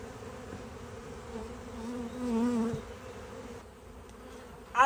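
Honey bees buzz around a hive while a swarm is moved from a nuc into a ten-frame hive, a soft, steady drone whose pitch wavers and briefly swells closer before easing off.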